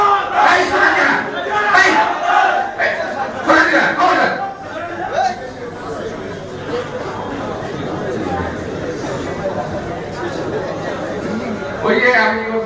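Crowd at a political rally chanting slogans, rhythmic massed voices loud and close at the start and again at the end, with general crowd noise and chatter in between.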